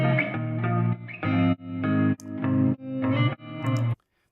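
Heavily distorted guitar chords through an effects unit, several sustained bursts with brief gaps between them, loud and dense, ending abruptly in silence.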